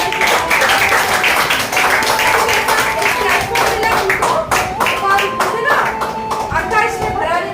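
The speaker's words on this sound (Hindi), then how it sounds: "जोरदार ताली होना चाहिए।" A large audience claps loudly and continuously at a network marketing training session, a dense unbroken wash of applause with a voice speaking over it.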